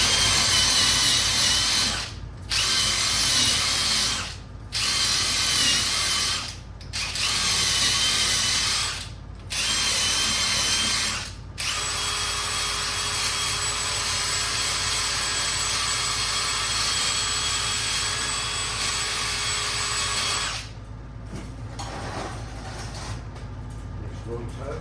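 Loud, close power-tool whirring from a Hub Buddy cleaning the front brake hub of a 2007-2012 Dodge Nitro, first in several short bursts with brief pauses, then one long continuous run before stopping.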